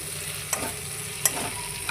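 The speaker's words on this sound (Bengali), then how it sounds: "তেলের মধ্যে পাঁচফোড়ন, গোটা জিরে, একটু হিং আর দুটো তেজপাতা দিয়ে এখন নাড়াচাড়া করছি।" Panch phoron, whole cumin, asafoetida and bay leaves frying in hot oil give a steady close sizzle, with two brief spatula scrapes against the pan.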